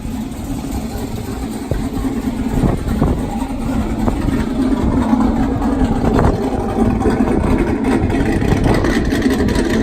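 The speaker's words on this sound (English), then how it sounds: "I'm gonna let y'all hear the exhaust" A pickup truck's Corsa exhaust idles with a deep, steady rumble and slight irregular pulsing, close by and continuous, with no speech.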